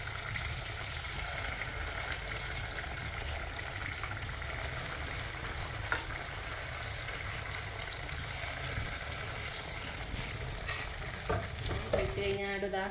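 Kannur appam batter frying in oil in a cast appam pan, giving a steady, faint, crackling sizzle, with a few light clinks near the end.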